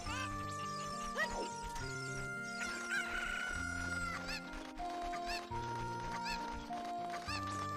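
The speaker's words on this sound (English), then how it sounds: "I hear a chicken." Chicken sounds in The Legend of Zelda: Ocarina of Time on 3DS, Master Quest, a loud rooster crow followed by clucking, layered over busy game music in a woodland setting.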